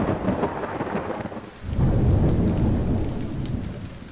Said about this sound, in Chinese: 夏季暴风雨总是伴随着电闪雷鸣不期而至